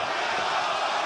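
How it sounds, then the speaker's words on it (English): Raucous wrestling crowd at an AEW women's tag match in Atlanta, a dense, steady roar of cheering voices filling the arena briefly. "the 50-50 split between the raucous crowd here in Atlanta"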